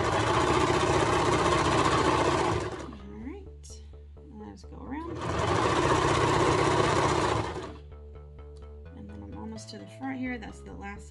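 A sewing machine stitches a tag onto the middle back seam of a child's ruffle sweater romper, running in two sustained loud bursts of about three seconds each with quieter talk and handling between them.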